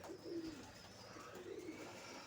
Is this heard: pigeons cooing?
yes